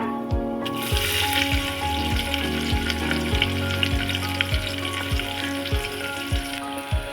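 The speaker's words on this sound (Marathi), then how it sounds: "त्यामध्ये घालूया आपण कांदा" Onion frying in hot oil with cumin, mustard seeds, bay leaf, cinnamon, cloves and pepper for matar pulao, a loud continuous close sizzle with occasional stirring scrapes and a steady underlying hum.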